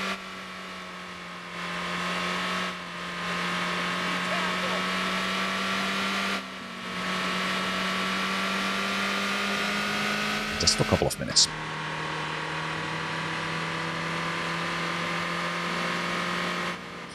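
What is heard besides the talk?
car engine revving while driving faster, Motor Town video game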